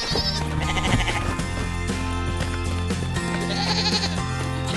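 A white sheep bleats on a farm beside a wooden fence and wooden building, its wavering calls loud and close, layered over a busy background.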